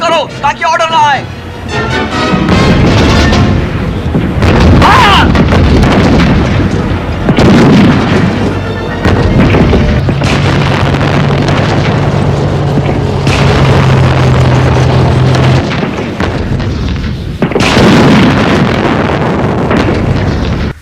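Heavy booms and blasts of tank gunfire and explosions fill a battle scene almost without a break. The sound is loud and dense, with a rumbling, wind-like roar beneath it, and shouting voices come through in places.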